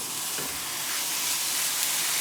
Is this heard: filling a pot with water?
no